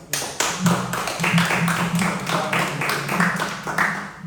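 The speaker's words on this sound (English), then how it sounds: "So a round of applause as he chooses the story that comes up." Audience clapping at a poetry event, a steady patter of hand claps from a room of listeners continuing for several seconds at moderate level, with some brief voices mixed in.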